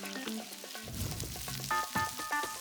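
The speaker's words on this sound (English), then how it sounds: "Throw in 2 cups of baby spinach and saute for 2-3 minutes until it's wilted." Baby spinach and garlic sauté in hot olive oil, a soft sizzle broken by quick stirring clatters and scrapes close by, and no one speaks.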